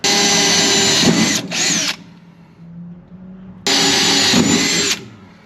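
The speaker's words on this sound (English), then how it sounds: "Grab an 1/8 inch drill bit, and I'm gonna start getting after this thing." A power drill with an 1/8 inch bit drills pilot holes on a 1967 Mustang, whining loudly in two bursts, spinning up, running steadily, then stopping, with a brief quiet pause between.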